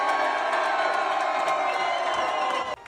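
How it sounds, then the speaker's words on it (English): Football fans cheering loudly inside a stadium in Madrid at an NFL international series game, a dense, sustained roar of crowd noise that holds steady, then drops sharply just before the end. "Cheer really loud. Let's go."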